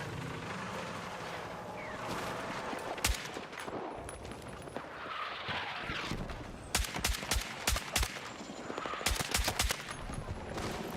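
Automatic rifle fire in Battlefield 6 rattles out in sharp, close bursts, a few isolated shots first and then rapid clustered volleys, over a busy background of distant battle noise and vehicle rumble.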